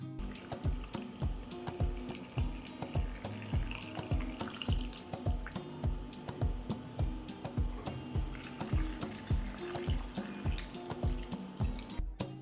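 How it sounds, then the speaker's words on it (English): Tap water runs into a glass jar in a home kitchen, a steady close splashing and gurgling with repeated sharp drips and clinks pulsing through the whole stretch. "Filling a jar with water."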